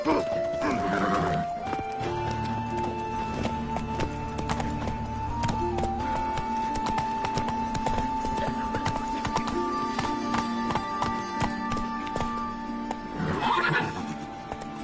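Horse hooves clip-clopping at a gallop in the video game Witcher 3, a steady continuous rhythm close by, with whinnies near the start and end and game music and voices running underneath.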